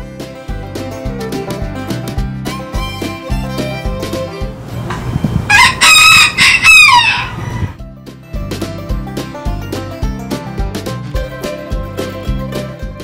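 Over a bouncy nursery-rhyme musical backing, a rooster lets out one loud, drawn-out crow midway before the music carries on.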